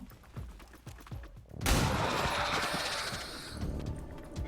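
Pistol fire in XCOM 2 begins partway through with a sudden loud burst, followed by a sustained crackling rumble of shots and impacts that slowly fades, after a quieter stretch with light clicks.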